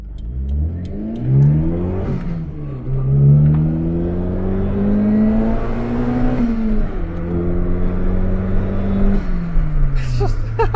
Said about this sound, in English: This engine revs hard.